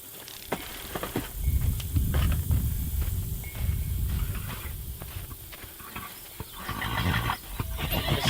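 A horse whinnies and snorts close by amid rustling and shuffling, with a few sharp knocks scattered through the clip.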